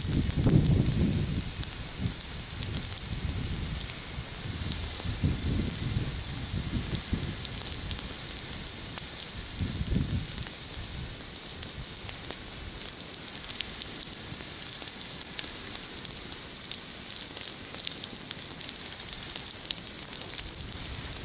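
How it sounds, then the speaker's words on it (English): A grass fire burns through green pasture grass in Texas, giving a steady crackling, hissing sizzle with occasional louder low pops, heard close and continuous throughout. "This one looks like it's burning underneath pretty good over here."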